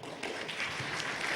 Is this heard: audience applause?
yes